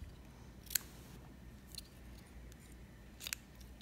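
Scissors trimming cotton wick for a Reload RTA vape atomizer, three quiet, crisp snips spaced a second or more apart over faint room noise, no talking.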